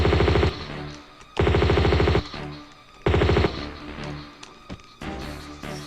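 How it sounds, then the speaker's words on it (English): Built-in machine gun on an enemy snowmobile firing in Tomb Raider 2: three loud, close bursts of rapid rattling shots, each lasting under a second, separated by pauses filled with a droning engine and scattered clicks. "his little snowmobile, unlike yours, has a built-in machine gun"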